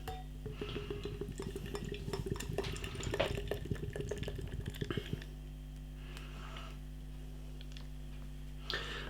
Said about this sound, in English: Beer in the glass then.